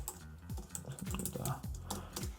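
Keyboard typing on a computer while writing a simple blog post in WordPress, a quick run of soft clicks and keystrokes over about two seconds, close and moderately quiet, with faint low murmuring underneath.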